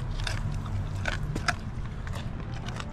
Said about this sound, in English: you do want to make sure your dog's chewing the bone up well enough